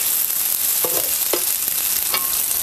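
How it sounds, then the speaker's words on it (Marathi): Brinjal pieces sauté in a pan for a village-style milk brinjal masala, a dense continuous sizzle up close with a few brief spoon scrapes and taps as the pieces are stirred. "थोडंसं वांग्याचा कलर बदलूसपर्यंत आपल्याला हे परतून घ्यायचं आहे"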